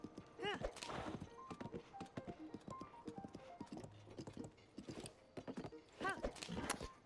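Horse hooves clip-clopping in Zelda: Tears of the Kingdom, a quick irregular patter of hoofbeats mixed with whinnies and short game effects, fairly quiet overall.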